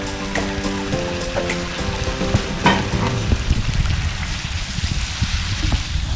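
Chicken and arbi pieces sizzle and crackle in masala in a pot, a steady close frying hiss with a few clinks of stirring, no voices.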